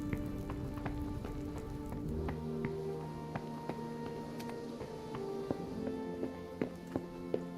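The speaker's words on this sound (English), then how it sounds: "Is it raining again? It's raining again." Rain falling in the video game Kingdom Come Deliverance, a steady pattering wash under tonal game ambience, with scattered light taps and knocks.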